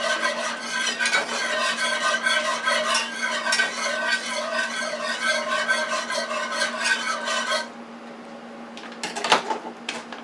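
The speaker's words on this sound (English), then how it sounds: "let's focus our attention back over here while the gravy is cooking" Gravy for a stuffed T-bone steak cooks in a pan on the stove, giving a dense bubbling, scraping stir that stops abruptly partway through, followed by a few scattered clinks and knocks at close range.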